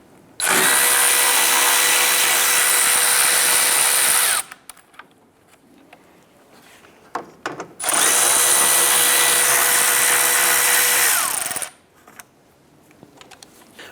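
Power tool loosening and removing 13mm bolts on a 2011-2018 Ram 1500 grille area, two long loud whirring bursts of about four seconds each, separated by quiet clinks and handling noises, close by.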